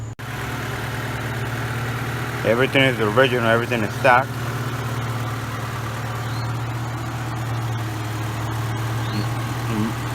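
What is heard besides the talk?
Honda Civic EJ8 engine idling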